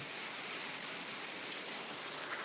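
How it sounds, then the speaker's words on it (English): Heavy rain with dime-size hail pours down during storm chasing, a dense, steady hiss that roars evenly and loudly throughout with no voices. "looks like it's just really, really heavy rainfall going alongside of that as well"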